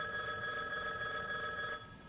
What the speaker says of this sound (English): the phone's gotta ring